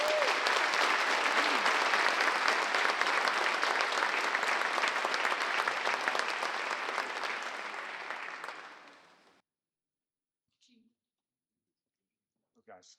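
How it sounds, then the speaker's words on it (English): An audience at a public safety awards ceremony gives a round of applause for a county recognition certificate honoree, full and steady for about nine seconds before fading out into near silence with a couple of faint clicks. "Let's give him a round of applause"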